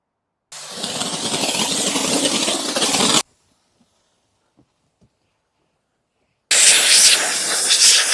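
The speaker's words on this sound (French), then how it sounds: "c'est ce type de générateur vapeur professionnel" A professional Junior Star steam generator hisses loudly and steadily while cleaning a car's exterior, two long blasts of roughly three seconds each separated by near silence, close and alone.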